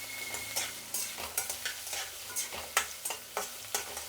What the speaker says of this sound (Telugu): ఆయిల్ వేడెక్కిన తర్వాత ఆవాలు చిట్లా పట్లాడిందండి. ఎర్రగడ్డలు వేసుకుందాము.